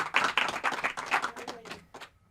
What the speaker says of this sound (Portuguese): Palmas, senhoras e senhores.